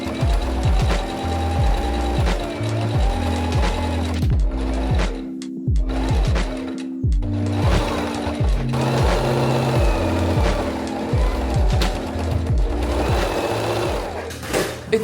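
A sewing machine stitches an outfit in steady rapid bursts, its motor whirring and needle chattering close by, with two brief pauses near the middle before running on.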